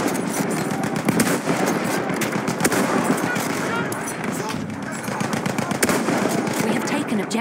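Rapid machine gun bursts rattle loudly and almost without a break in a war video game. Voices talk under the gunfire.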